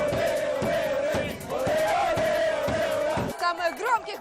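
A loud crowd of sports fans chanting in unison before a match, a rhythmic roar punctuated by regular claps or drumbeats, ending with scattered shouts.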